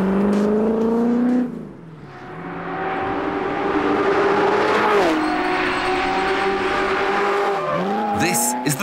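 A Noble SPF GT40 sports car drives at Killarney Circuit near Cape Town, its engine revving and shifting with rising and falling pitch, easing off briefly, then accelerating hard again, close and loud throughout.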